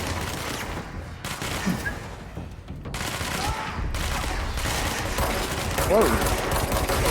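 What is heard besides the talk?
gunfire in the video game Control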